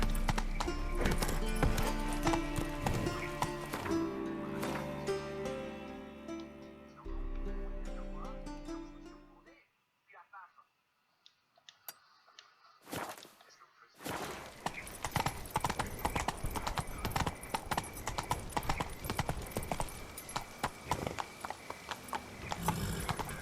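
A horse gallops in The Witcher 3, its hooves clip-clopping in a steady rhythm under game music and effects. After a brief quiet break the hoofbeats resume.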